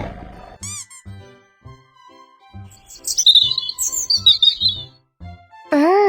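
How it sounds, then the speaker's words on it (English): A bird chirps and tweets in a series of quick, bright calls and squeaky trills, some short and clipped, others rising and falling, sounding clear and close with no talk. "Bird."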